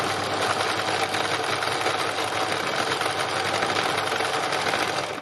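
A sewing machine stitches free machine embroidery in a fast, even, continuous whirr that holds at a steady level from start to finish, with no voices over it.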